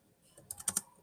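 A few quick keystrokes on a computer keyboard, about five crisp clicks bunched together after a quiet start, close but soft.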